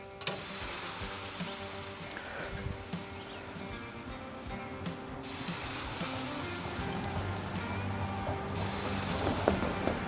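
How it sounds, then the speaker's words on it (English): Honey garlic shrimp skewers sear on a hot Oklahoma Joe grill, giving a steady, dense sizzle that crackles continuously and grows slightly louder toward the end, with no talking. "you're gonna set these down and you're gonna go ahead and listen, hear that sear"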